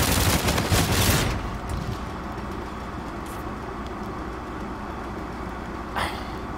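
A rapid burst of Volk rifle gunfire in a video game opens loud and close, then fades into a steady rumbling background with a faint later shot.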